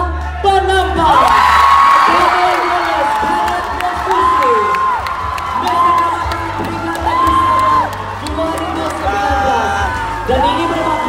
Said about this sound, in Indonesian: Berikan tepukan yang paling gemuruh kepada daerah Penampang